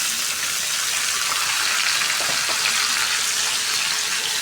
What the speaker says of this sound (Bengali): এখন তেলে দিয়ে দেবো, যে ভাজা হয়ে গেছে